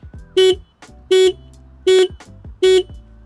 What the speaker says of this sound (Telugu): లౌడ్ హార్న్ ప్రొవైడ్ చేస్తున్నారు